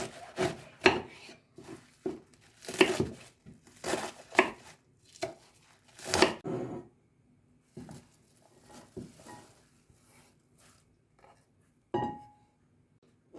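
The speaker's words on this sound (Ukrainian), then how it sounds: "Пекінську капусту наріжу не дуже крупно." A knife chops Chinese cabbage into fairly coarse pieces on a board: a quick run of sharp, close chops, then slower, sparser cuts trailing off.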